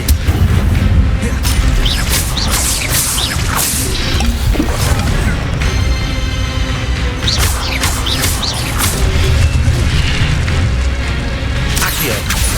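Repeated booming, crashing spell blasts from Incendio and other spells in Hogwarts Legacy gameplay, loud and dense with whooshes and impacts stacked over a continuous rumbling game soundtrack.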